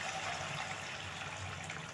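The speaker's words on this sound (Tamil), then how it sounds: "இப்போ வந்து நம்மளுக்கு தேவையான அளவு தயிரை கலந்து வச்சோம்ல அதை ஊற்றிக்கிடுவோம்" Yogurt mixture poured into a cooking pot for a cucumber dish, giving a steady soft liquid trickle and splash up close, with no talk over it.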